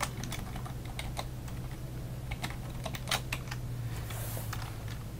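Number keys tapped on a keyboard while programming speed dial on an LG iPECS phone system, a close series of crisp clicks with a brief pause, no voices.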